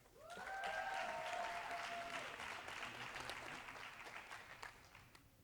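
Sustained audience applause at a Centre for Human Rights graduation ceremony, a dense wash of clapping from a large crowd that swells quickly, holds steady and slowly thins toward the end, with a few faint tonal sounds early on.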